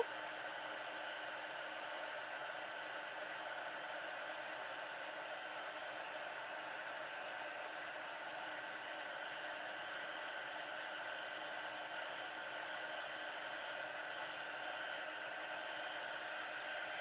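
Heat embossing tool blowing hot air for card-making, a steady, faint and unbroken whooshing hiss with no change in level.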